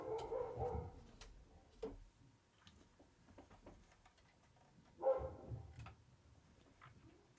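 A dog barks in the background indoors, a few muffled barks spaced apart, faint and distant, with small ticks and clicks of handling in between.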